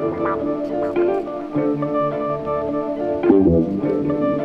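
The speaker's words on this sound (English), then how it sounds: "So then I have this synth, which is that. Sounds like this." A warm, layered synthesizer tone from a guitar rig plays a wavering, gliding melody, steady and full with no voices over it.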